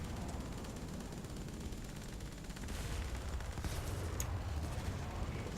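Tank cannon and machine-gun fire in War Thunder, a quick-firing gun on a T-34 battle in desert terrain, with dense rumbling volleys and sharp reports running continuously under a steady low roar.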